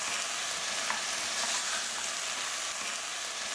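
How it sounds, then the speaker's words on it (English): Ground beef browns in a pan for chili con carne, giving a constant, dense sizzle that holds steady at close range throughout with no talking. "So now I'm going to add the beef, and I'm going to brown it."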